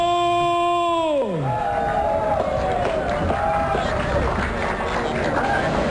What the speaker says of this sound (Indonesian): kita sambut dengan tepuk tangannya, ladies and gentlemen, Bambang Harmoko.